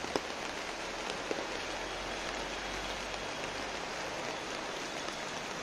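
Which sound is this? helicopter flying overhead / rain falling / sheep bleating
rain falling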